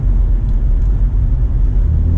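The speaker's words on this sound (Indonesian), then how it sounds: "Gue seneng banget suara knalpot tiba-tiba." A 2004 BMW E46 318i with stock exhaust gives a loud, close, continuous deep rumble and drone from the tailpipe while driving, with no talk.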